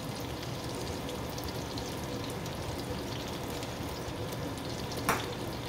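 Shrimp sizzling in melting butter in a hot pan, a steady, dense crackle and hiss that stays even throughout, with one small bump near the end.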